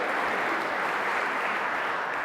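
Steady, dense audience applause fills a TEDx talk hall, a continuous wash of clapping with no gaps, heard on its own.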